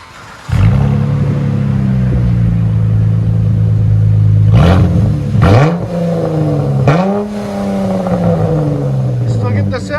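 A Dodge Challenger V6 fitted with Dynomax race bullets exhaust idles with a steady drone, then is revved in three quick, sharp blips before settling back to a rumbling idle, loud and close.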